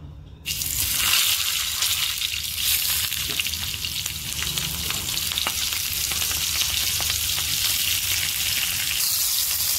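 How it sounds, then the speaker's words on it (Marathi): Stuffed green chillies dropped one by one into hot oil on a griddle over a low gas flame set off a loud, steady, hissing sizzle that starts abruptly and holds throughout. "आता मी गॅस बारीक करून एक एक मिरची त्याच्यात सोडणार आहे।"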